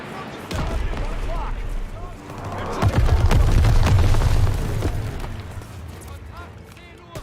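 Mortar strikes land in a first-person shooter, a rolling run of deep booms and sharp cracks building to a heavy barrage midway, loud and dense, while players talk over the blasts.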